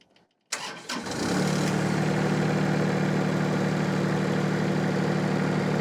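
A car engine with a running fault cranks briefly and catches, then settles into a steady, loud, even idle that holds at close range with no talking.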